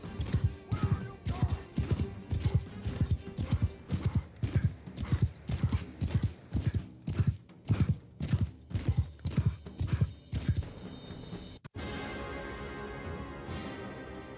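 Horse hooves clip-clopping at a steady galloping rhythm while riding in Total War: Warhammer with High Elf troops, loud and close for about ten seconds before the hoofbeats stop and a softer ambient wash remains.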